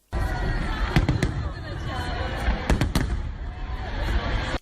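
Fireworks salute launched from a barge during a celebration: booming bursts and sharp cracks over a continuous crowd and rumble, with clusters of loud reports near the start and middle.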